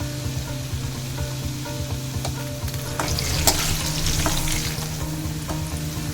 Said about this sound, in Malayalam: ഒരു ഉരുളൻകിഴങ്ങ് ഇടാം, അതൊന്ന് ഫ്രൈ ആവും.